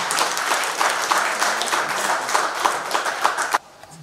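An audience at an economic forum applauds the ambassador of the DR Congo to Belgium with dense, sustained clapping that cuts off sharply near the end, leaving quiet room tone.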